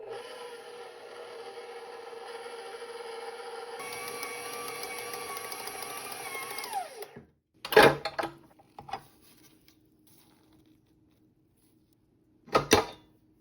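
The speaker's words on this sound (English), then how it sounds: "Now mix on medium speed for 8 minutes." Stand mixer kneading dinner roll dough on medium speed, a steady motor whine with rhythmic hum that winds down and stops, followed by a few clanks and knocks of the bowl and attachment.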